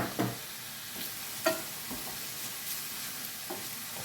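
Garlic and ginger sizzle in a pan for Chinese-style shrimp, a soft steady frying hiss broken by a few light stirring clicks, with no talking.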